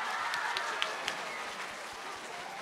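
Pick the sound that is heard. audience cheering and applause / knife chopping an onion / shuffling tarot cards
audience cheering and applause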